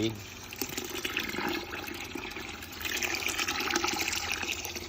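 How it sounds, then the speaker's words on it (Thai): Water is poured into a can to top up a fermenting microbial culture made from termite nest fungus, rice bran and rice noodles, a steady continuous splashing and gurgling under a faint background hum. "นี่ก็จะใส่น้ำลงไป สักประมาณ ค่อนกระป๋องนะครับ"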